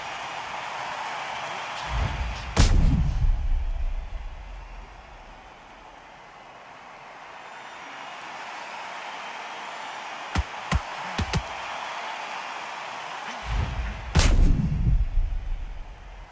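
A knockout punch lands in a boxing video game and is replayed in slow motion: two heavy, booming, drawn-out impacts several seconds apart over a steady low rumble, with a few sharp clicks between them.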